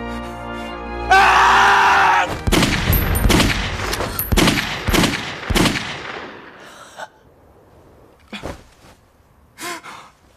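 Gunfire erupts in a Chinese war drama scene: after a loud cry, a rapid run of sharp, loud shots rings out in close succession, then a few scattered shots follow amid quieter moments.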